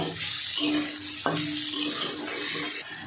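Steady, loud sizzling of soybean chunks frying in hot oil, with a few clinks of a utensil stirring the pan.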